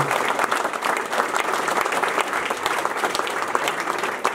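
An audience at a training centre inauguration claps steadily and loudly for a volunteer, a dense even patter of many hands lasting throughout without a break.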